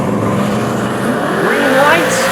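A Ford Mustang and a Ford Falcon launch side by side off a drag strip starting line, their engines roaring loud and rising in pitch together, with a commentator's voice over them.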